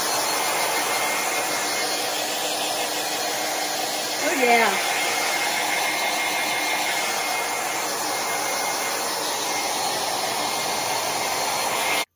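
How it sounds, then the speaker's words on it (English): A handheld hair dryer blows steadily to dry Mod Podge on a craft piece in a home crafting studio, a loud continuous broadband whoosh running the whole time, with a brief voice murmuring over it. "try the hairdryer, see if it'll be faster."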